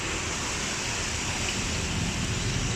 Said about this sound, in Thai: ฝนตกด้วยนะครับวันนี้